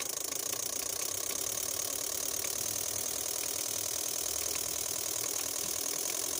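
A Toyota Altis engine with the number 3 injector switched off runs as its revs are raised, a steady, even mechanical hum with fine rhythmic ticking, moderately loud and close, with no talking.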